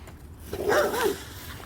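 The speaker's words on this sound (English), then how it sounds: "Mind the neighbor's dog there." A neighbor's dog gives a single short bark with a whiny, yelping edge, fairly close by and clear over a quiet outdoor background.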